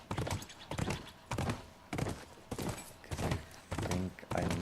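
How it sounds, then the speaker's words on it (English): Horse hooves in The Last of Us, landing as a series of loud, evenly spaced clip-clop thuds about every half second, close and steady throughout. "there's no reason why this horse shouldn't jump this, right?"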